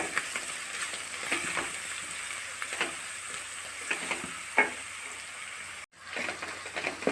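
Onions cooking in a pan with salt and turmeric, giving a steady close sizzle with scattered stirring scrapes and a brief drop-out near the end.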